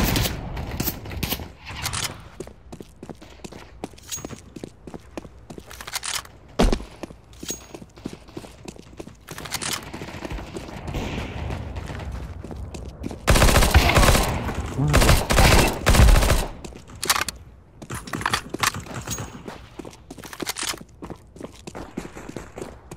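Gunfire in a Counter-Strike 2 deathmatch, rapid bursts and single shots mixed with footsteps, a dense loud volley in the middle, a voice speaking briefly.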